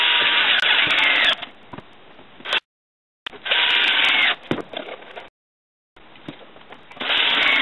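A power drill drives screws into the lid of a wooden bait hive, with three loud, sustained whirring bursts separated by short silent pauses.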